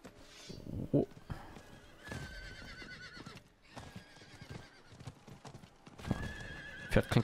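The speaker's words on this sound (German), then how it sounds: "Pferd klingt genauso wie meins." Horse hooves clip-clopping steadily with a couple of whinnies in Diablo IV, with people talking over it.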